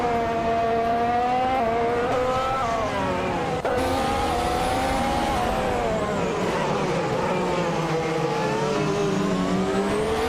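A Toro Rosso TR9 and other race cars in a racing video game, their engines whining loudly and continuously with rising and falling pitch as they shift gears and pass along the track.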